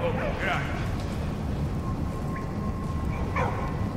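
In the Valiant Hearts: The Great War video game, a dog gives a few short, sharp barks spread apart over steady low game rumble, moderately loud and near.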